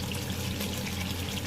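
Water poured into a pot of simmering chicken korma, a steady broadband splashing hiss that fills the short moment at even loudness without a break, no voices.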